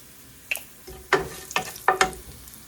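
Cumin and mustard seeds fry in hot oil, giving a handful of sharp popping crackles and short sizzling bursts spaced unevenly over a quiet background, close and fairly soft.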